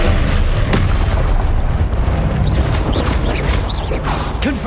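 Spell combat in the Hogwarts Legacy video game with the Expelliarmus spell, a dense barrage of loud booming magical blasts, crackles and impacts packed together without pause.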